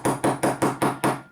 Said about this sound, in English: I can hammer lots of little hits rather than one big one, because this is a much smaller chop